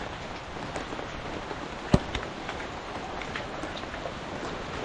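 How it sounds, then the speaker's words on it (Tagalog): Steady rain falling outdoors, a soft continuous hiss of drops with one brief sharper knock partway through, no voices. "yan ang ulan."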